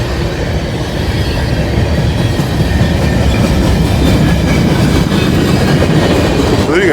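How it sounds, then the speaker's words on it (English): Freight train boxcars, including a Norfolk and Western car, roll steadily past at close range in Glendale, with a continuous loud rumble of wheels on rail and faint clickety-clack, plus a brief squeal near the end. "nice string of boxcars here"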